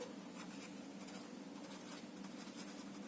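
Pen scratching across paper in short, steady strokes, close and fairly quiet over a constant low background hum, during a biology lesson on muscle reticulum.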